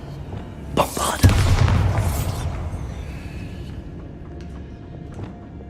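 A single heavy Bombarda blasting spell bursts in Hogwarts Legacy, a sharp crack swelling into a broad roaring blast that trails off over a few seconds, with a voice faintly present.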